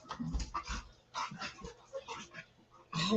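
A dog at home pants and whimpers nearby in irregular breathy bursts and soft whines, with short quiet gaps between them.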